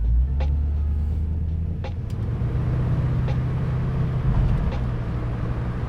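A 1964 Chevrolet Impala with an LS engine swap and four-wheel drum brakes on a road test, its engine a steady close rumble with brief rises in revs, heard from inside the car with no talk.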